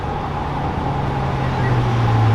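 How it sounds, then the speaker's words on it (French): Supercars roll up in a convoy on a mountain road: McLaren, Alpine, Cupra, Audi R8 and a Porsche GT3, a loud steady low engine drone close by, rising slightly as the cars approach. "Il y a le deuxième convoi qui arrive, McLaren, Alpine, il y a Cupra, Audi R8. Il y a une petite Porsche GT3."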